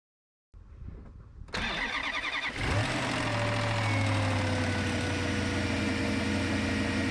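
A Maserati GranTurismo engine cranks briefly, catches, and settles into a steady, loud idle with a faint rising whine.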